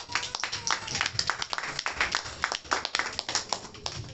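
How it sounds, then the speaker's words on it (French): Church congregation at a Christian family sermon clapping and applauding, a dense, lively patter of many hands at close range with a little voice mixed in. "Acclamez pour le Seigneur."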